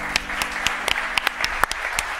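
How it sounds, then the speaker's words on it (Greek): An audience at a live Greek show applauds, a steady patter of clapping with a few sharp, louder individual claps standing out, moderately close and with no talk over it. "Ένα χειροκρότημα στον κύριο Καλέργη."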